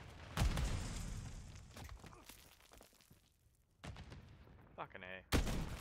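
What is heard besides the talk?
gunfire in a multiplayer video game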